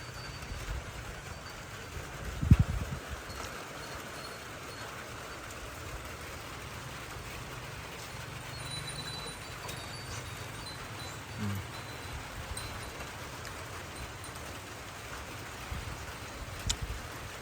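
Rain falls steadily, a soft, even hiss at low level that runs throughout, with a single brief thump early on and no talk.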